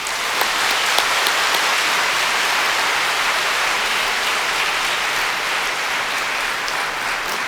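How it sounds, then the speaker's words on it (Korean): Congregation applauding at a Friday overnight church service, a steady dense wash of clapping from many hands that holds evenly throughout. "우리 박수 한번 치고 시작합시다"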